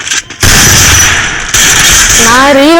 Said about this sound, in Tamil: டபுள்ல இப்படி ஒரு புல்லட் அடிச்சு ரீலோட் பண்ணுவாங்க